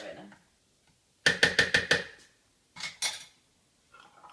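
Cookie dough with coconut oil is worked in a bowl: a rapid burst of five hard clacks of a utensil against the bowl, then two more knocks, with quiet pauses and faint voice between.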